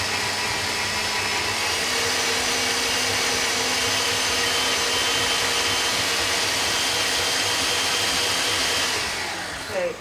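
A stand kitchen mixer runs steadily, beating a mixture in a bowl at a loud, even drone with a constant motor whine, then winds down near the end.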